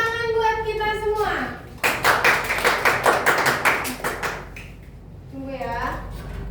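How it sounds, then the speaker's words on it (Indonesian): A classroom group claps their hands in a burst of quick, fairly even claps lasting about two seconds, with a teacher's voice talking before and after. "Oke, tepuk tangan buat kita semua"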